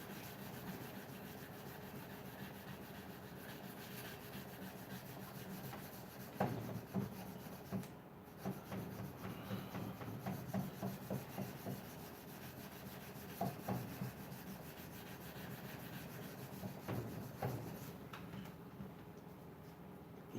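Hand sanding of wood gives a continuous, soft scratchy rubbing with faint irregular strokes, fairly quiet and steady throughout, with no speech over it.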